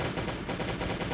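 M16 rifle gunfire in the zombie survival video game Last Day On Earth: a dense, continuous burst of rapid automatic shots, loud and close, filling the whole moment with no pauses.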